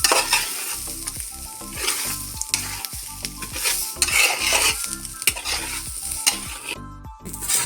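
Grated coconut roasts in a pan for a dry chutney powder, sizzling steadily while a spoon scrapes and stirs in a regular, repeating rhythm. The sound is close and moderately loud, and no one speaks.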